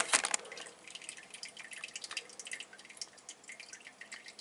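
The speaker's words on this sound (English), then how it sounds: "here there's no filling going on, it's just draining out from the tub" Water drains from a Kenmore washer tub during a leak check, with a close, faint run of irregular drips and trickles, alone without speech.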